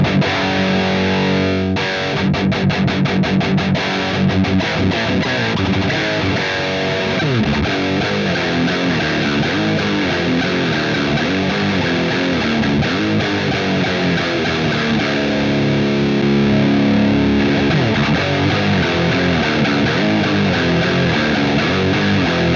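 Distorted electric guitar through a Randall Century 200 amplifier, heavy chugging riffs and sustained chords played continuously and loudly with no talking.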